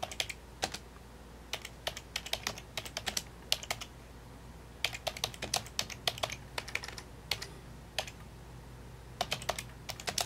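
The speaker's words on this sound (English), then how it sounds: "Typing sucks, guys." Rapid clacking of computer keyboard keys in irregular bursts and pauses, close and fairly quiet against a low background hum.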